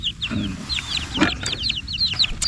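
Farm chickens cluck in short repeated bursts at close range, several birds calling over a quiet background with no talk.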